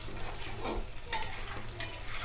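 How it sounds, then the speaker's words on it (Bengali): Poppy seeds sizzle and crackle in a hot pan, with a couple of sharp scraping stirs of a utensil against the metal. "পোস্তটা ভাজা ভাজা হয়ে এলে"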